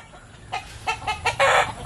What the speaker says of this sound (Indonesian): Ternyata pohon ini penuh dengan ayam di atasnya kawan-kawan.